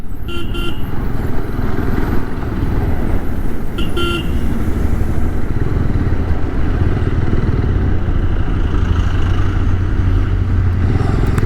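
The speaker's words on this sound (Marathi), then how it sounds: "ट्रॅफिक लागलं." Loud, continuous road traffic heard from a motorcycle on a coastal Mumbai to Harihareshwar ride, with steady engine drone and wind rumble and a couple of brief horn toots near the start and around four seconds.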